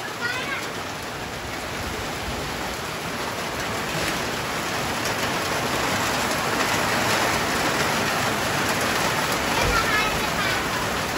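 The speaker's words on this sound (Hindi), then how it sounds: "बहुत ही ज़्यादा बारिश हो रही है।" Heavy monsoon rain pours down outside a home while a meal is being prepared, a loud, steady, dense hiss of drops on surfaces that continues without a break.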